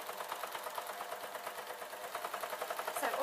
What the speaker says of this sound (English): So all I'm doing now is sewing the 2 sides of the fur that are going to be the sock.